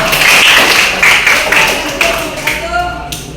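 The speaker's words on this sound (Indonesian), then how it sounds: "Tepuk tangan untuk nomor 1." Applause for a student group in a classroom, scattered hand claps over a few seconds that fade out, mixed with voices in the room.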